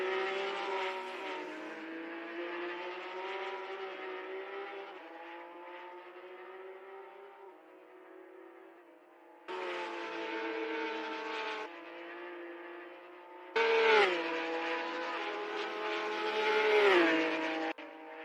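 Simulated race car engines from a NZ SuperLap virtual racing game, a steady high revving drone shifting pitch through gear changes, with louder bursts of acceleration near the end and no voices.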